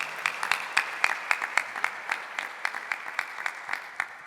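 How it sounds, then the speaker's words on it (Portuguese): A church congregation applauds after the Gospel reading at Mass: rhythmic, moderately faint clapping in an even, steady beat, roughly two to three claps per second, heard alone without talk. "Vamos aplaudir o Santo Evangelho"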